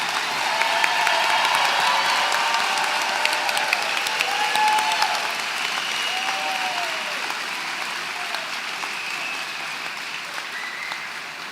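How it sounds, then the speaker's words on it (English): Sustained applause fills a hall at a 2025 high school graduation ceremony as the crowd claps for the graduating class, a long, steady roar of many hands with a few scattered cheers, easing slightly over time. "Can we please have one more round of applause for our graduating class of 2025?"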